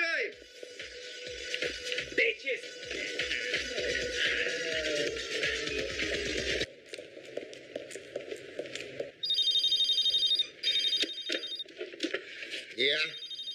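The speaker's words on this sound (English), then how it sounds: "There's a cell phone." A cell phone rings in an action film scene, with bursts of a steady electronic ring tone in the second half after a stretch of dense, busy soundtrack.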